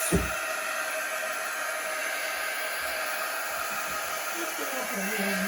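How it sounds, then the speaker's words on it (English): A quick-dry heat tool blows steadily and loudly for several seconds, a continuous close hiss as it dries chalk paste on a craft project. "Quick dry tool helps just dry the paste faster, so we'll just do that."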